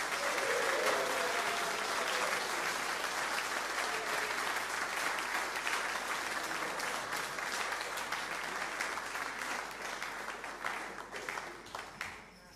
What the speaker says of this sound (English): So we are going to give them all a big clap and a cheer.